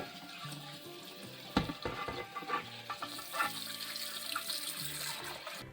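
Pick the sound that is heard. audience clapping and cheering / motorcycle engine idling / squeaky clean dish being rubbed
squeaky clean dish being rubbed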